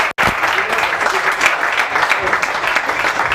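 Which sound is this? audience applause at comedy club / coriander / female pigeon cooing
audience applause at comedy club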